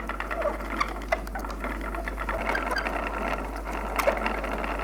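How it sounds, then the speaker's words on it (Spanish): A hand-cranked wooden bobbin winder, called a tornillo, winds handmade thread onto loom bobbins with a steady close whirring clatter and small ratcheting ticks, over a low constant hum. "Benita denomina tornillo a este aparejo de bobinar, con el que distribuye los hilos en las canillas"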